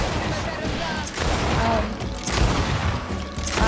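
Gunfire in a video game: a dense run of loud shots and booming impacts, with a voice talking over it throughout.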